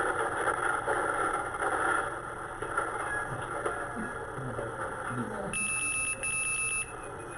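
A vehicle's warning alarm from a camera system sounds near the end, a loud, steady high-pitched electronic tone pulsing in two bursts over a background of traffic and road rumble.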